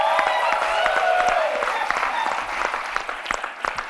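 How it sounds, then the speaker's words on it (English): An audience at a talent-show comedy night gives a final round of applause, dense, loud clapping with sharp individual claps standing out, continuing steadily to the end. "Final round of applause for Balkee"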